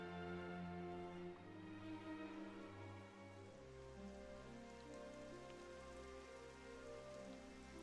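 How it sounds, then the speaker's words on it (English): Steady rain falls in the video game Dragon Quest 11, a continuous hiss of drops on surfaces with no voices, accompanied by a layered game music score. "It's raining!"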